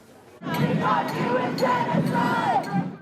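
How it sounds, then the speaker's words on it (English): A protest crowd on central London streets, a dense roar of many voices shouting and chanting together, loud and sustained with rising cries. "there was a less positive reception for the president's presence in the UK as crowds gathered in protest"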